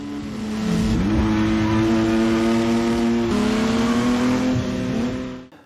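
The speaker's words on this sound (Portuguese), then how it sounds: "tem uma perseguição entre uma Ferrari e um Lamborghini que é simplesmente icônica" A Ferrari and a Lamborghini race each other in a car chase from a 1990s Hong Kong action film. Powerful engines rev and accelerate loudly and steadily, with the pitch climbing and shifting twice as the cars speed along. No voices are heard.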